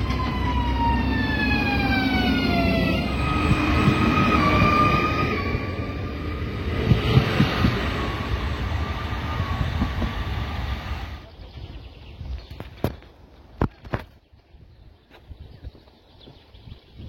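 A train passes on a railway line at Kalngale station, a loud drawn-out roar with a falling whine that fades after about eleven seconds, leaving quiet outdoor ambience with a few sharp knocks.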